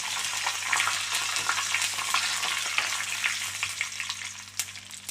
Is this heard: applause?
no